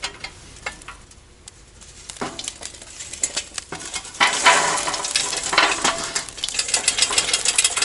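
Food sizzling on a hot grill at a winter RV campsite on the West Branch loop: a soft crackling hiss that swells louder halfway through, with occasional clinks of utensils and no talking.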